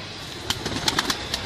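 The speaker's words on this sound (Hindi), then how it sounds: "ये हमारा उड़ा हुआ कबूतर है।" Soft pigeon coos and wing flutters from a breeder's flying pigeon over steady outdoor background noise, fairly faint and brief.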